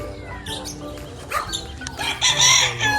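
An 18-month-old bullstag rooster crows once, close and loud, over a farmyard backdrop with other fowl clucking faintly behind it.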